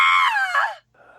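A person lets out a loud, close, falling scream that fades into silence, followed by a brief faint noise.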